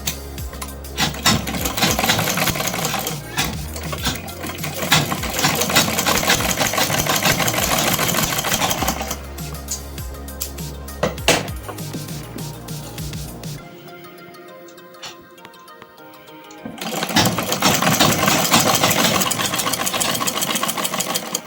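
Sewing machine stitching the hem of a kurta sleeve cuff, a loud, fast, steady mechanical whir running close by in long bursts, with a brief pause near the end before stitching resumes.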